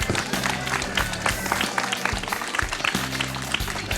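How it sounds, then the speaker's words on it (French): A crowd of visitors from Amiens applauds together outdoors in pouring rain, sustained clapping with scattered bursts and a low rumble beneath. "On vous applaudit les amis."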